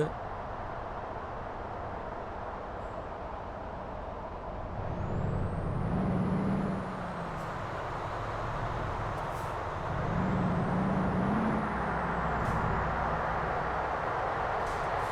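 Heavy truck in Euro Truck Simulator 2 hauling an industrial cable reel, a steady engine drone with two air-brake hisses and rising engine surges around the middle and later, someone talking now and then.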